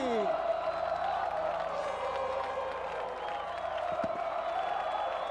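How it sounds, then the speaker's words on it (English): A big grandstand crowd roars and cheers after the 2008 San Marino MotoGP race win, a steady wash of distant cheering with faint bursts, mixed under a commentator's voice and a passing tonal engine-like whine. "Listen to that crowd."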